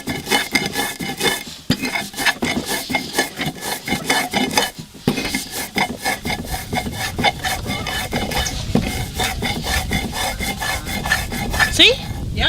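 Cacao nibs being ground into a 100% paste, a continuous rasping, rubbing grind with steady churning texture that fills the whole stretch, loud and close with no talk.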